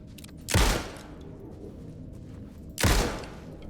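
Two loud, sharp gunshot bursts from the video game Alan Wake II, about two seconds apart, each with a short decaying tail over a steady low background.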